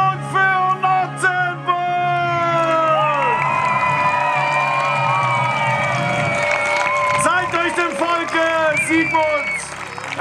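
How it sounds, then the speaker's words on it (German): A crowd cheers and whoops loudly over background music at a night-time knights' tournament in Königstein im Taunus, the roar swelling and holding steady after a few opening musical notes. "Alle Hände nach oben für den größten Jubel für Sigmund"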